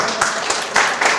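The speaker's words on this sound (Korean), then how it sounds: "박수 한번 쳐주시죠" A short burst of clapping from a studio audience on a Korean health program, uneven claps with a few louder peaks, mixed with some voice.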